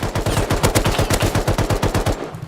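Rapid automatic gunfire from the survival game Rust rattles off in a fast, even burst of around twenty close, loud shots before cutting off.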